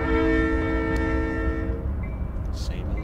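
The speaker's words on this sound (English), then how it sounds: "I'll sound the horn and everything like that" Diesel locomotive horn of a Dash8-40C in Train Simulator: a loud sustained multi-tone blast over engine rumble that cuts off partway, leaving low drone and faint clicks.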